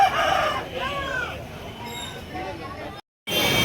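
Chickens crow and cluck at a busy Sunday poultry market in Nellore, with harmonic calls rising over steady crowd noise and voices before a brief dropout.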